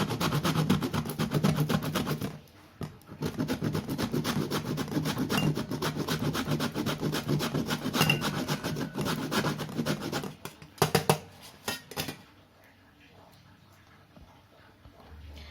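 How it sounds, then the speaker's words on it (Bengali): Khoya kheer, dried milk solids, is rubbed against a metal kitchen grater in quick, scraping strokes that run steadily for about ten seconds, then break into a few separate rasps before stopping. "এবার খোয়া ক্ষীর গ্রেট করে নেব।"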